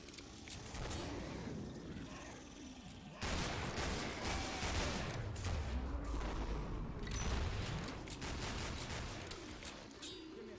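Gunfire in Killing Floor, a dense, continuous volley of rapid shots and booms running throughout, loud and layered with rumbling low-end impacts.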